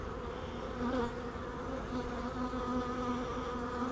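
Honeybees buzzing steadily and close during a hive inspection, a dense continuous hum with no talk.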